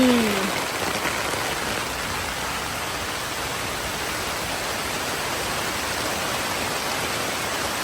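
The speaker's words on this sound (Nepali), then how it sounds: "हिँड्न पाइएन पानी पर्यो" Steady rain falling at a riverside campsite during a camping and fishing trip, a dense even hiss of drops close by that persists unchanged throughout with no talking.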